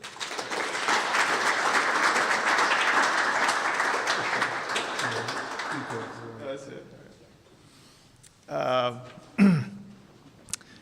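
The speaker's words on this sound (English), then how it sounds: "give a big round of applause for Christian Kaylor" An audience at an economic prosperity forum applauds a keynote speaker, with dense clapping for about six seconds that fades out, followed by a few short bursts of talk and a cough.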